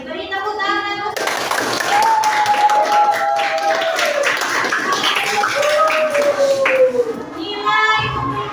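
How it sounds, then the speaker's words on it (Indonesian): Students in a junior high classroom break into loud, steady applause for a group, with clapping sustained over several seconds and a voice speaking briefly at the start and end. "Beri tepuk tangan."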